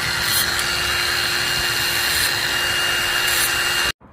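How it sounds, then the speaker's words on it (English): Grinder trimming down a high-pressure fuel pump line on a 1985 BMW E30 325e with a 2.7L M20 inline-six, a steady loud rough whine close by for about four seconds before it cuts off abruptly. "Once we trimmed it down with the grinder a little bit,"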